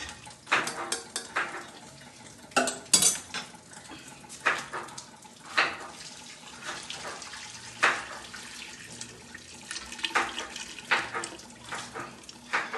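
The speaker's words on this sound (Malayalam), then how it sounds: "അങ്ങനെ നമുക്ക് വെള്ളം ഒന്ന് അരിച്ചെടുക്കാം" Melted jaggery water is strained in a kitchen, with irregular splashes of pouring liquid and light clinks of metal utensils recurring close by throughout.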